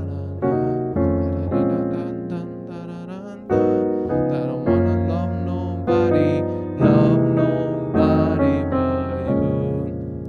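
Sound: gospel jazz piano chord progression

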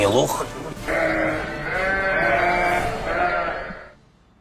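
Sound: sheep bleating on the way to the slaughterhouse

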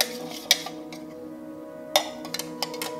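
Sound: stirring coconut milk into tom yum soup in pot

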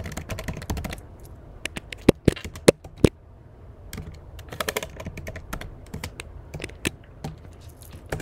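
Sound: typing on computer keyboard

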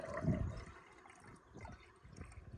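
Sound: gasoline being poured into diesel fuel

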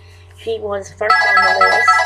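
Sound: mobile phone ringing

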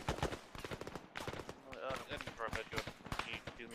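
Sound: tank shooting in video game Arma 3

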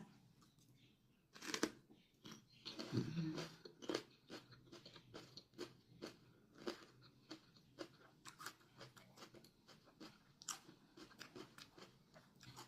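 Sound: eating green onion with cream cheese, chewing

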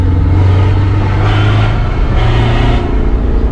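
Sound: Chevrolet pickup MWM diesel engine revving

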